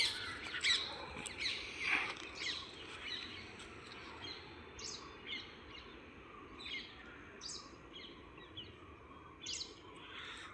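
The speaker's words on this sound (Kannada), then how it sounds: "ಇವಾಗ ರೋಡ್ ಮಧ್ಯಕ್ಕೆ ಒಂದೈತೆ ಒಳ್ಳೊಳ್ಳೆ ನವಿಲುಗಳೈತೆ ನೋಡಿ" Peacocks by a roadside give a few faint, harsh squawks early on, heard far off against a steady wash of outdoor background noise.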